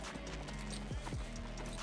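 A horse's hooves clip-clop in a steady walking rhythm on a Yellowstone ranch, mixed low under a dense layer of background ambience and music.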